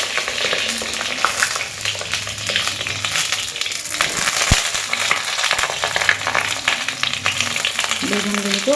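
Eggplant pieces frying in hot oil with nigella seeds, giving a loud, crackling, continuous sizzle close to the pan, with occasional stirring bumps throughout.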